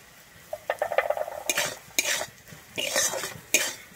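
Spices with salt and turmeric are stirred in a frying pan: a spoon scrapes and clinks against the metal in repeated close strokes over a faint sizzle, with no talking.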